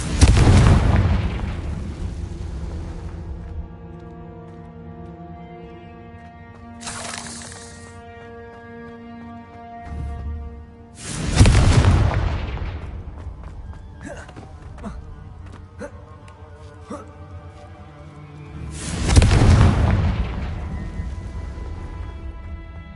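Several loud booming blasts from the Confringo fire spell in a wizard video game, spaced a few seconds apart, each with a sharp broadband burst and lingering rumbling decay over a steady game music bed.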